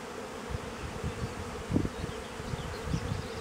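Honeybees buzz steadily around a bee pavilion in spring, a low, continuous drone, close by, with a few louder individual bees passing near the listener.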